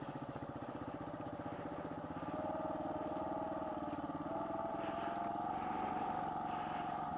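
A motorcycle engine idles and ticks over steadily in first gear on a muddy backroad in Banos, Ecuador, its even low rumble close and continuous, with the pitch lifting slightly partway through as it pulls away slowly.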